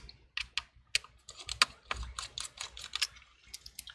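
Tiny screws are removed from a MacBook Pro with a pentalobe P2 screwdriver, heard as a quiet, close run of irregular small clicks and ticks, like a ratcheting mechanism, with no talking.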